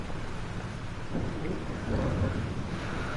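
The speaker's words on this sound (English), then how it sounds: "Y se acerca la tormenta." Thunderstorm in the video game Life is Strange: steady rain hisses throughout while low thunder rumbles swell and roll through the middle, with no voices.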